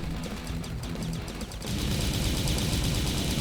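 The normal gun in Space Elite Force II fires in a rapid stream of shots, lighter at first and then dense, loud and continuous for the second half of the clip.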